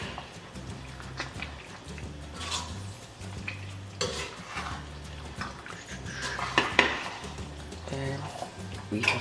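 Chicken pot pie filling being stirred in a pot, with soft scraping and clinking of a utensil against the pot, plus a low background hum throughout.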